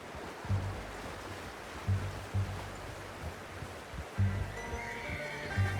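Horse whinnies and snorts from the Red Dead Redemption 2 video game, several short low bursts spaced across the clip over a soft steady ambient wash, no speech.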